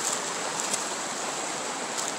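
Spring water wells up from a boiling spring in the Ozark Mountains of Arkansas and flows away in a steady, even rush, close and continuous with no voices.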